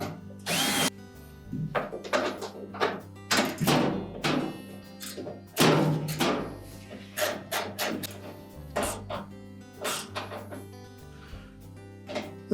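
Power drill driving bolts into the outer tub of a Whirlpool washing machine, with repeated short whirring bursts separated by clanks and handling noises, close and fairly loud.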